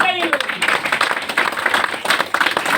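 An audience at a company event for Sameday Infratech breaks into loud, dense applause. Many hands clap together in a steady patter for a few seconds.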